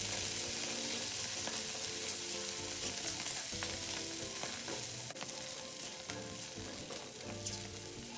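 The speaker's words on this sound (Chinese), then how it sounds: "接着再加入备好的虾米，再将虾米炒至溢出香气" Mushrooms and dried shrimp stir-fried in two tablespoons of hot oil over medium heat, a steady dense sizzle with scattered scraping stirs of the spatula, close and continuous without speech.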